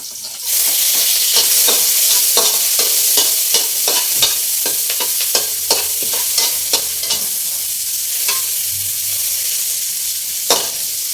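Ginger frying and sizzling in a pan, with a steady hiss broken by repeated clinks and scrapes of stirring, close and loud with no talking.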